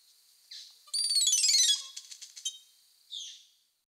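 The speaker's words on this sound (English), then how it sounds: "So that's a song of a crestadora pendula." A crestadora pendula bird sings a short, high, thin song: a brief whistled note, then a rapid buzzy trill of squeaky chirps and a final clipped note, fairly faint and close, with no other sounds around it.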